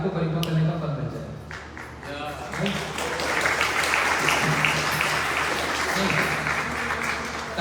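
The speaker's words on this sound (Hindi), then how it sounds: "ताली बाद में बचाना" An audience claps at a Hindu religious katha gathering, sustained loud applause filling the hall and swelling slightly midway, with a voice speaking over it at the start.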